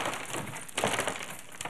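A foot pushes out broken car window glass, producing close crunching and grinding of shards with a couple of louder crushing bursts over about two seconds.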